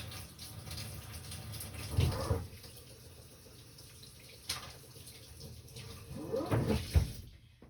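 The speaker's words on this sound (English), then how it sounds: "I'm going to go put this in water" A craft stencil is rinsed under running tap water at a sink, with two louder splashing bursts near the start and end and a quieter steady trickle between.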